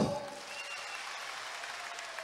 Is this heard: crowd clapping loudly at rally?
yes